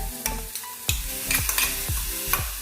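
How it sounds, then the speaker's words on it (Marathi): Ginger, chili and garlic paste fries in hot oil for bread pakora, a close continuous sizzle broken by a quick series of sharp spoon knocks and scrapes against the pan. "हा अद्रक मिरची आणि लसणाचा पेठ घालत आहोत आपण आता"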